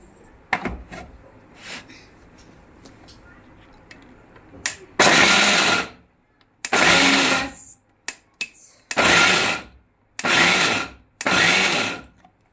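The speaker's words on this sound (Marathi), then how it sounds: "त्यामध्ये आपण मिक्सरच्या भांड्यात जिरं एक चमचा घालते दहा लसणाच्या पाकळ्या आणि लाल तिखट हे आपण बारीक करून घेऊ" A mixer grinder blends cumin seeds, ten garlic cloves and red chili powder for Solapuri chutney: five loud whirring bursts, each about a second long with short pauses between, after a quieter stretch of kitchen clatter.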